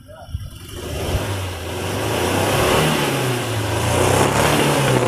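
A 2004 Suzuki Carry Futura 1.5 pickup, an older engine not yet warmed up and with worn spark plugs, revs up from idle and holds a steady, loud drone with a slowly wavering pitch for several seconds.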